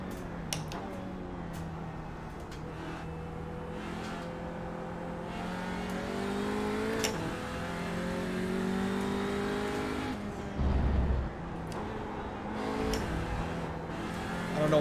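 An Audi TCR race car at Laguna Seca runs close and loud, its engine rising and falling through gear changes with revving pitch sweeps and a brief downshift blip midway.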